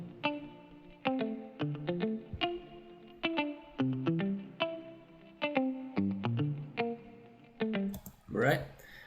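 Electric guitars from an emo song intro, panned with automation and carrying chorus and distortion effects, picking a rhythmic phrase of bright plucked notes and chords with a swelling smear of effects at the close.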